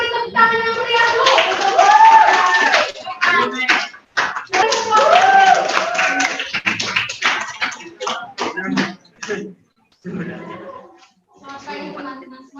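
A classroom of students claps for a presentation group, loud and uneven with sharp separate claps rather than a smooth wash, broken by gaps, and a voice talking through parts of it.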